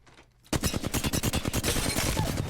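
Rapid automatic gunfire aimed at a training dummy in the video game Apex Legends, arriving as a sudden, loud stream of closely spaced shots that runs without pause to the end.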